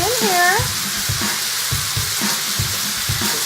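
Food sizzles and fries in several pans on a cooking stove at a live chef demonstration, a steady broadband hiss with intermittent low knocks and stirring clatter, fairly close and loud, no talk.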